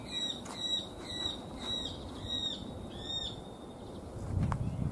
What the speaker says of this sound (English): And the sound of birds.